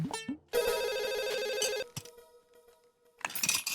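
A telephone rings loudly and electronically for more than a second, cuts off briefly, then sounds a short burst again, with no one speaking during the rings.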